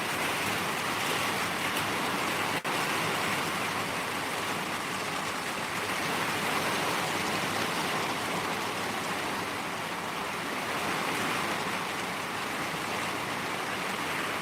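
Heavy rain pours down at night in Mountain View, Hawaii, a steady loud broadband roar that fills the whole stretch without letup, drowning out any frogs.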